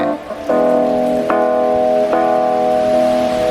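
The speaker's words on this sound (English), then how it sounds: "This is Wurlitzer, still with just reverb and analog delay." Wurlitzer electric piano chords ring out, three sustained strikes with a bell-like tone, lingering under a wash of reverb and analog delay.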